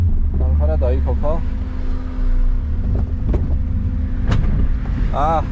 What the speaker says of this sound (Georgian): მანქანა დაიქოქა